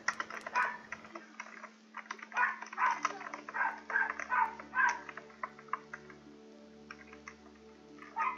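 A dog barks outside in a string of muffled, irregular barks, mixed with close, rapid clicking like keyboard typing over a low steady hum.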